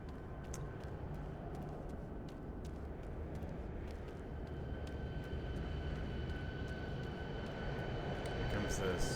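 Steady roar of Southwest airliner jet engines in a flight simulator game, a broad continuous drone that swells slightly toward the end, with faint intermittent clicks over it.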